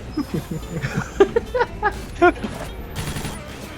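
Bursts of gunfire from Left 4 Dead 2 crack in quick irregular clusters under excited talk, loud and close, trailing into a scattered clatter.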